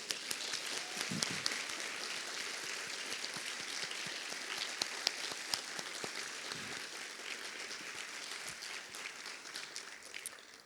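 Audience at a college academic awards ceremony applauding award recipients, a steady, even wash of many hands clapping throughout, moderately distant and fairly quiet, with no talk over it.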